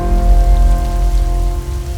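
Torrential monsoon rain in Delhi pours down steadily with a dense roar, loud and close, under a faint low hum.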